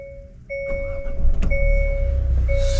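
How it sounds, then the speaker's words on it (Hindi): A white 2022 Hyundai Venue facelift in SX trim, with keyless entry and a manual transmission, chimes with steady tones, then its engine cranks and catches into a loud, steady idle rumble close by. "मैं एक काम करता हूँ, मैं गाड़ी ऑन कर लेता हूँ।"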